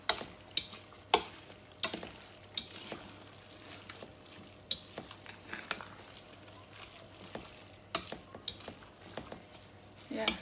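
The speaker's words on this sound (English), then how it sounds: "Okay, so I'm going to stir it now." A spoon scrapes and stirs spaghetti sauce in a pan on a cooker, with an irregular run of sharp clinks and scrapes over a faint sizzle and steady low hum.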